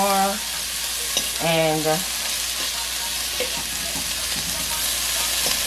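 Salt mackerel sizzles steadily in a pot for a Jamaican-style run down, a constant frying hiss with stirring, and a brief voice heard faintly at the start.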